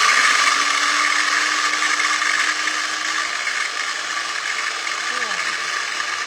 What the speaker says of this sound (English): If you're watching closely, you're going to see that this the blade not only goes round and round, there you go, but it also goes up and down